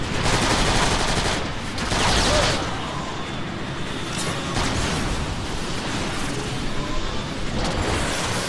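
Dense, continuous gunfire from a Transformers: Fall of Cybertron game battle, a sustained loud clatter of rapid shots and blasts filling the whole stretch with no pauses.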